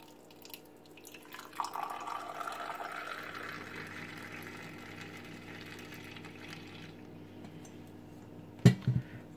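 Mint tea being poured from a pot into a glass: a faint, steady liquid trickle running for several seconds, ending with a brief clink near the end.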